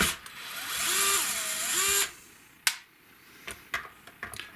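A power screwdriver with its clutch at about 5 or 6 whirs for about two seconds driving screws into a Fender Stratocaster, rising and falling in pitch, then stops, followed by a few sharp clicks and taps.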